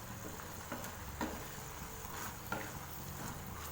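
Pea masala is stirred in a pressure-cooker pot, giving a soft, low background hiss with a few faint scraping clicks of the spoon, quiet and without speech.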